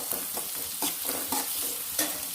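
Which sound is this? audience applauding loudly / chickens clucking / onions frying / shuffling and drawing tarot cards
onions frying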